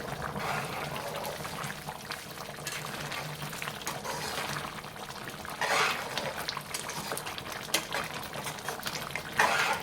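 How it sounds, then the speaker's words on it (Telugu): Moong dal with tomato simmers in a covered pot on a stove. It gives a continuous low bubbling and watery burble with occasional louder gurgles, and no talking. "పప్పు అయితే ఉడికిపోతుంది"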